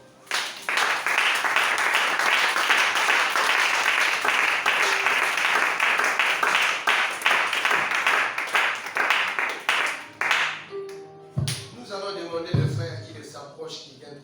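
A church congregation applauding to acclaim Jesus, dense loud clapping from a crowd for about ten seconds before thinning out, with talking over the final seconds.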